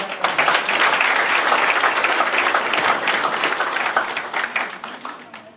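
Loud, dense applause from an audience at a Karni Sena workers' convention in Jharkhand, a steady wall of clapping that fades slightly toward the end.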